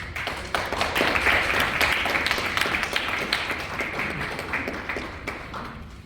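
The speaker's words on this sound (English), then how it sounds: "I would ask you all to join me in just giving them a hand clap and giving them kudos" Audience members at a city council meeting in Harvey clap for city staff, a steady round of applause from the room that holds fairly even for about six seconds with scattered sharper claps.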